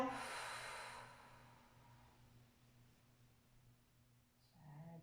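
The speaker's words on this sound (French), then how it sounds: "Prenez une grande respiration." A deep inhalation and exhalation during a guided stretching exercise, a long airy breath at the start fading into quiet, with a soft breath returning near the end.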